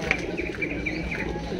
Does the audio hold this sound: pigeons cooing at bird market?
yes